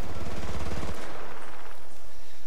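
Gunfire in the video game Battlefield: Bad Company 2 comes as a loud, rapid, rattling burst of shots for about a second, then a fading echo and a quieter, distant battlefield background.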